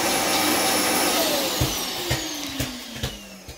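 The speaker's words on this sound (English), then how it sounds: "Now the Roomba is going to empty itself." A Roomba S9+ robot vacuum empties into its base station: a loud roaring suction noise with a whine that slowly drops in pitch, punctuated by several dull thumps and rattles toward the end.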